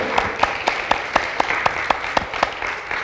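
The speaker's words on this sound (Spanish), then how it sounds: "¿Por qué no das fuerte el aplauso al Señor?" A church congregation claps in a steady, regular rhythm, sharp unison claps repeating about every quarter second over a bed of crowd applause, fairly loud and close, with no talking.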